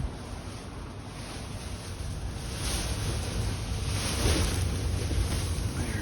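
Strong wind blows into a shed on a harsh winter day, a steady, loud roar of rushing air and microphone buffeting that swells gradually and never lets up, with no voices.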